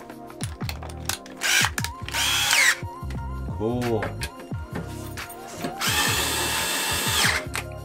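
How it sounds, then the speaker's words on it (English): Cordless power drill whirring in short bursts and longer runs inside a home studio during a rack setup, close and loud, with a brief spoken word between runs. "Oh, what am I doing? I have a drill."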